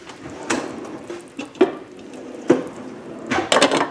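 A metal pan on the stove gets its lid set on while chicken breast cooks in garlic, ginger, wine and cream, giving a few sharp clanks and clatters in quick succession, close and fairly loud.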